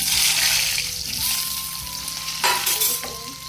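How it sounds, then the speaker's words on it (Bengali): Potatoes frying in hot oil in a wok: a loud, dense, continuous sizzle with a faint steady hum behind it and a couple of brief bursts of spatter near the end. "কড়াইয়ের মধ্যে তেল দিয়ে দিচ্ছি। তো আলুগুলো এবার দিয়ে দেবো,"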